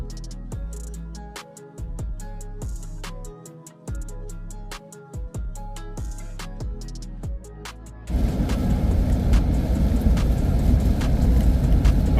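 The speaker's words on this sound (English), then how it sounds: "Let's get back on the road, see how these tires tow." A truck towing an almost 11,000 lb travel trailer rolls along a wet road with a steady, loud broadband rush of tires and engine. Before it, a stretch of rhythmic clicks and tones plays.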